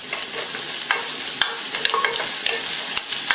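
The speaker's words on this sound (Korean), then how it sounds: "특히 대파는 굉장히 잘 타요. 그렇기 때문에 조심해서 볶아주세요." Green onion stir-fried in a pan for potato cream soup: a steady sizzle with the quick scrape and tap of a spatula stirring several times, heard up close.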